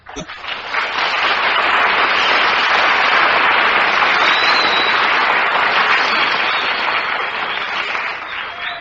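Studio audience at a 1948 radio variety show breaks into loud, sustained applause that swells quickly and holds as a dense roar of clapping for nearly nine seconds before easing slightly.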